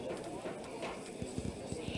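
Horse hooves gallop in a horse-riding video game during a pole run, a quick rhythmic clip-clop that builds into rapid thuds toward the end, fairly faint under a voice.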